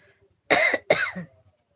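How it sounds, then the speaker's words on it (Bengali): Two sharp coughs in quick succession, close and fairly loud, with near silence before and after. "কাশি হচ্ছে"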